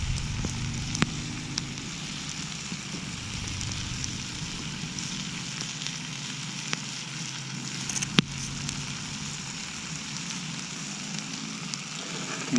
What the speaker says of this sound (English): the bacon's sizzling pretty loud